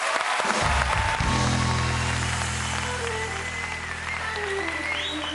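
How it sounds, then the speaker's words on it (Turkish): A studio audience at a Turkish game show applauds Eser, with clapping running throughout under a sustained low musical tone or hum that carries on through the clip. "Eser'e kocaman bir alkış."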